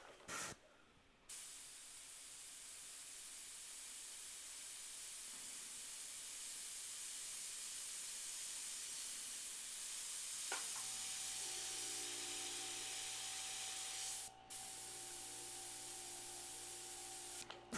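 An uncleaned, clogged airbrush gives a quiet, continuous spray hiss that cuts off briefly near the start and again later, with a faint steady hum joining partway through.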